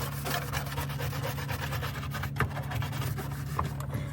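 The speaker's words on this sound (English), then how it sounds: "I'm gonna give it a good scrub." Scrubbing the flood-soaked carpet of a 2007 Suzuki XL7, a continuous close, coarse rubbing and rasping with a steady repeating stroke rhythm, heard alone without talk.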